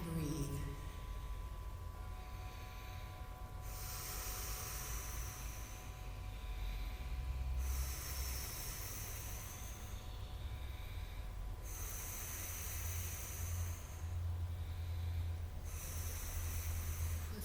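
Slow, deep breaths during a yoga session at Ixtapan de la Sal, with long airy inhale-exhale cycles repeating at a steady pace against a constant low background hum.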